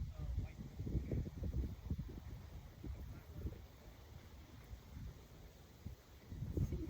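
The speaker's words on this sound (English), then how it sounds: "right now the wind is giving this feel" Wind blowing outdoors, a steady low rushing and buffeting that swells and fades across the whole stretch, loud and close like gusts striking the microphone, with no talk.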